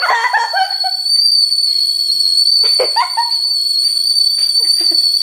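A high, steady whistling tone rings out continuously throughout, with a few chirpy, bird-like squeaks and brief noises bursting in around it.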